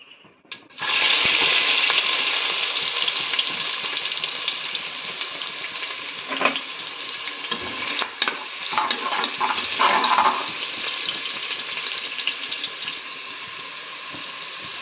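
Cinnamon and cloves drop into hot oil and set off a loud, steady sizzle that starts abruptly near the beginning and keeps crackling, with a few stirring clatters along the way.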